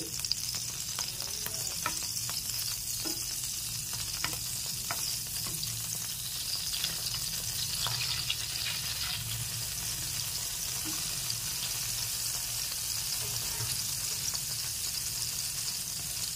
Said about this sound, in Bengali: এর মধ্যে দিয়ে দিচ্ছি বাটার। বাটারটা একটু গলিয়ে নিচ্ছি।